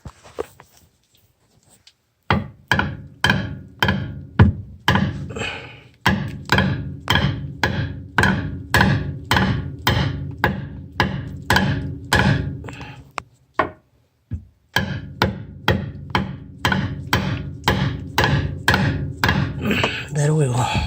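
Repeated hammer blows knocking a rear suspension bushing on a 2011 Mitsubishi Lancer Ralliart AWD, loud close metallic thwacks in a steady rhythm of several dozen strikes with two brief pauses.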